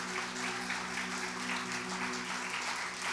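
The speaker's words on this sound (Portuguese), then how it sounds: "Você pode aplaudir ao Senhor por isso?" Church congregation at a baptism service applauding together, a continuous even wash of clapping held for several seconds, with a faint hum underneath.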